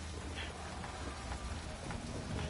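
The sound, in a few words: rain, from the video game Death Stranding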